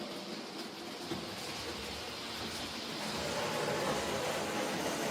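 Model railway trains run on a layout, a steady close rumbling and rattling of small wheels on track that grows slightly louder toward the end, with no talk.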